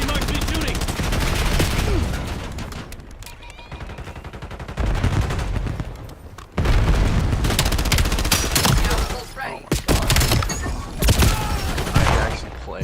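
Loud, near gunfire in a shooter game, with rapid automatic bursts and fusillades, broken by short pauses and sharp single shots, over continuous game noise.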